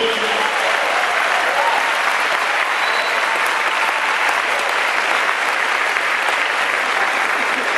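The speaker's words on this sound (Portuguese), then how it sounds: "dê um aplauso no livro de Júbilo ao Senhor" A church congregation claps loudly and continuously during a worship service, a dense, even wash of applause that holds steady for several seconds with no speech over it.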